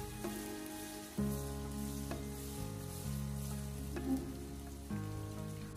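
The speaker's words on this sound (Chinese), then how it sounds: "将豆腐给它煎至底下金黄色， 用小火给它慢煎1分钟后" Tofu cubes pan-fry slowly over low heat for scallion-braised tofu, giving a steady, soft sizzle with a few faint knocks as the pan is gently shaken, over quiet background music.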